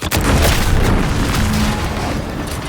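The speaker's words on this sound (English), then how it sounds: "What's that? An explosion?" Explosion in The Outer Worlds 2, a single loud deep boom that hits at once and rolls into a long rumbling tail fading slowly, with no voices over it.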